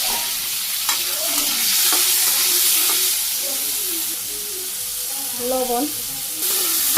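Mixed vegetables and soybean curry stirred and fried in oil, giving a loud continuous sizzle with scraping stir strokes, while a voice speaks briefly over it.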